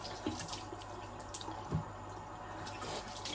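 Cold tap water running and splashing in a sink while a face is washed, with a soft steady flow and a few faint drips and splashes, no talking.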